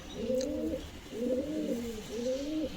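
A solid red male pigeon from a Bengal village market coos in three rolling, throaty phrases at a steady rhythm, close by and fairly soft, with no other voices.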